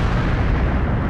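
Explosions in the N64 video game Mystical Ninja, a dense continuous rumbling blast that fills the moment loudly, with no voices over it.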